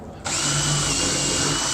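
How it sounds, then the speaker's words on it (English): A power drill starts up abruptly and whines steadily at high speed, close and loud, running continuously without pause while drilling a hole for a compost toilet chute. "So we need to just drill that hole out."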